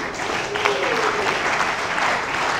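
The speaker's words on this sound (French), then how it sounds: "Je vous demande de les applaudir, s'il vous plaît." Audience at a Congolese film premiere applauding steadily throughout, a full crowd of clapping with voices faintly mixed in.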